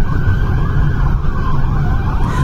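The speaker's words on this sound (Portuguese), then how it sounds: "Com giroflex e sirenes da viatura ligadas, os guardas alertam o condutor sobre a abordagem." A municipal guard patrol car's wailing siren rises and falls steadily over a heavy low engine rumble during a chase in Paranavaí, Brazil, sounding close and loud for the whole stretch.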